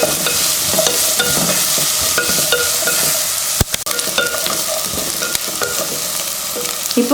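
Vegetables with beans and green peas sautéing in a pan, a constant loud sizzle broken by scraping stirs and a sharp clack of the spoon partway through.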